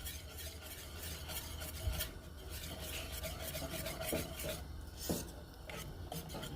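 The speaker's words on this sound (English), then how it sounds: "Go ahead and whisk this in." A whisk scraping and swirling diced green chiles into a thick cheese sauce in a pot for baked queso mac and cheese, a continuous close rasping stir with a few light clinks and no talking.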